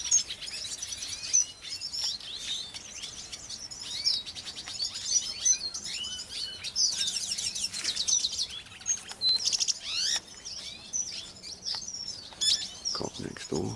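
Captive red siskins in an aviary chirp and twitter busily, a lively mix of high, rapid calls and trills from several birds close by, with brief bursts of song throughout.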